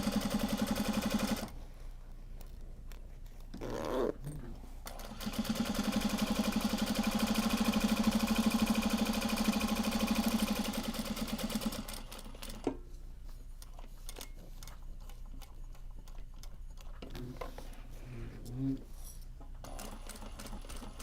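A sewing machine top stitching the fronts of traveller slings, several steady hums of stitching runs separated by quieter gaps with handling noise and brief voices nearby.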